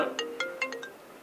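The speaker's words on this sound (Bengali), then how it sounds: "অসময়ে আবার কে ফোন করলো" A phone ringtone plays a quick run of bright electronic notes over a steady tone, fairly soft and with no voices.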